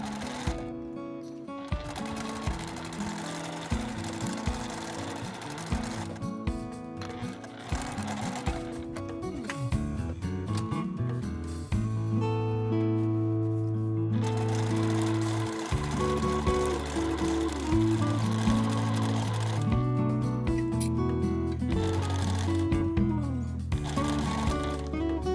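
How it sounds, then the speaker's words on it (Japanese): A sewing machine stitches all the way around a tote bag made from fabric scraps, its motor whirring in long steady runs broken by brief pauses as the fabric is turned, with no speech. "返し口を残して一周縫います。"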